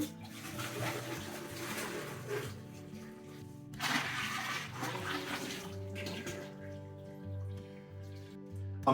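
Thirteen litres of distilled water pour steadily into a mulled wine warmer used as a brewing kettle for a Bohemian Pilsner batch, a continuous close splashing rush that surges and briefly shifts in tone partway through.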